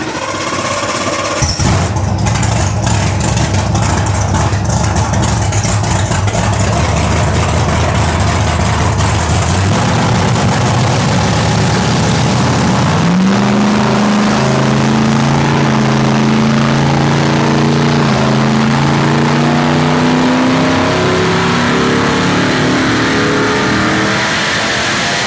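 Car engine on a dyno fed by compressed-air supercharging, idling loudly, then rising in steady pitch under load through a long rev, a continuous close engine roar with no talk.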